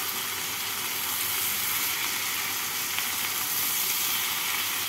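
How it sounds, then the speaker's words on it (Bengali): Potato and pointed gourd cooking with salt, turmeric and Kashmiri red chilli powder in a pan give a steady, dense sizzle throughout, with faint stirring under the constant frying hiss. "সমস্ত কিছুকে দিয়ে আবারও ভালো করে নাড়াচাড়া করে নিচ্ছি।"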